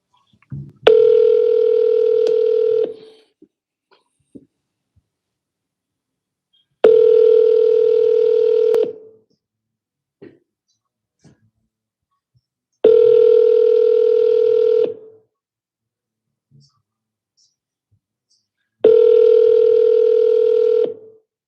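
Outgoing telephone call to a for-sale-by-owner listing, ringback tone sounding four times in an even, repeating cadence, each ring about two seconds with silence between, clear and alone with no talking.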